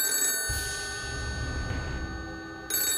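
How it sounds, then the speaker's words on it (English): A telephone rings in a pizza shop at the end of a shift, a steady electronic ring with a continuous tone that stops briefly partway and then starts again, fairly loud and with no voices. "suddenly the pizza shop's phone rang"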